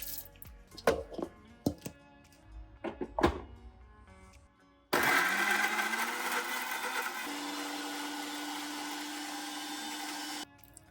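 Soaked red chilies, garlic, lemon juice, salt and a little sugar are ground in a mixer grinder: a few knocks and clatters, then a loud, steady whirring motor that runs for several seconds and stops abruptly.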